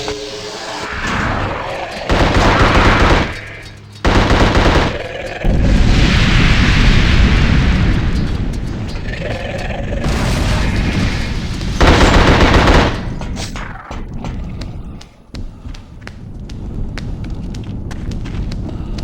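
Heavy gunfire in The Suffering video game as burning Diablo creatures are shot, with loud bursts of rapid automatic fire and booming blasts separated by brief gaps, followed by quieter scattered shots and crackling.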